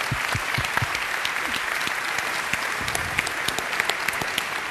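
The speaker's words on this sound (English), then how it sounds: "I want to give them a round of applause." Applause from a crowd fills the whole stretch, a steady dense patter of clapping hands, fairly close and even in level, with no talking.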